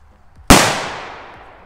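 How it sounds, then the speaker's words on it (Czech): A category F3 "Bomb" firecracker holding half a gram of composition goes off with one sharp, loud bang after near silence, then a long ringing echo fades away. "Tak jo, petarda Bomb"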